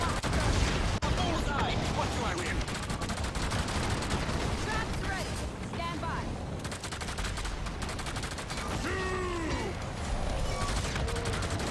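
Video game gunfire rattles in dense, continuous bursts under a busy, noisy mix. Overlapping game sound effects and voices keep it crowded throughout.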